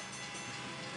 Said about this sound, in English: Train was really close right there.